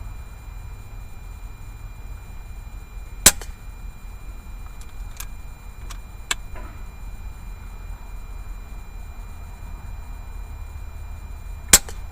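An air rifle fires pellets at a target 25 yards away: a few sharp, isolated cracks spaced seconds apart over a quiet, low background hum.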